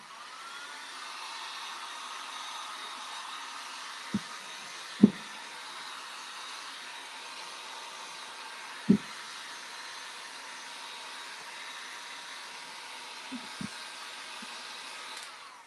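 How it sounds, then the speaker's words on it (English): A hair dryer blows steadily on a freshly limewashed clay pot, a constant moderate whir with a few sharp knocks and clicks scattered through it. "I am gonna hit this with a hairdryer."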